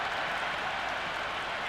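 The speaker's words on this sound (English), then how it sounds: "all these spectators here today are completely enthralled and energised, judging by the noise" Crowd at an England versus Australia cricket match applauding and cheering a boundary, a steady, even roar of clapping and crowd noise, distant and uniform throughout.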